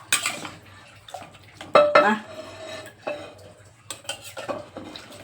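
Plates and cutlery clatter and clink as dishes are handled and rewashed in a home kitchen, in irregular close knocks and scrapes with short pauses between.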